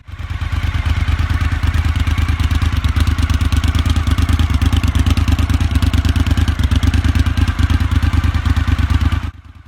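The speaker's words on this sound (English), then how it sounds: "that big thumping V-twin taken from the TL1000S" Suzuki TL1000S-derived V-twin engine in a budget aluminium-chassis motorcycle, running steadily with a loud, close, even thumping beat for about nine seconds before cutting off.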